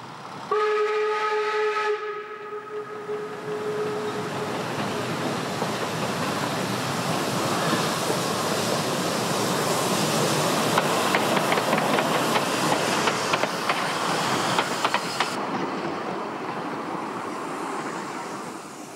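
A narrow gauge steam locomotive in eastern Germany gives a loud, clear whistle blast lasting about two seconds, followed by steady hissing steam and rhythmic chuffing and running noise that carries on throughout.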